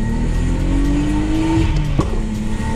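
A chiptuned BMW with an M52B25 engine accelerates hard, its loud, close engine note climbing steadily in pitch before a brief knock near the end, with no talking.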